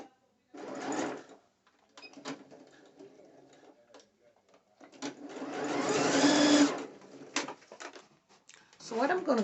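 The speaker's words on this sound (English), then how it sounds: "So I'm just stitching these down." A sewing machine stitching string into the band of a two-piece dance outfit, running in short bursts of rapid mechanical whirring, close and fairly loud, separated by pauses with small handling clicks.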